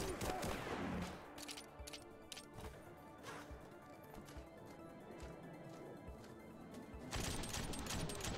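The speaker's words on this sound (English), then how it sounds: "we're actually shooting real people now" Rapid gunfire bursts from the skating shooter game Rollerdrome, loud and dense with crackling shots throughout over busy game music and effects, briefly thinning in the middle before intensifying again.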